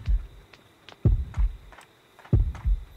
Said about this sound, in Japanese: なぜ心音が近づいてくる。